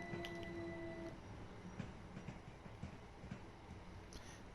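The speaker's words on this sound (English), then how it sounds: "we got pretty good brakes on this train" A passenger train slowing under braking on the New Haven to Brighton East Coastway line in Train Sim World 2, with a continuous rumble, rhythmic wheel clicks over rail joints and a brief high brake tone fading early.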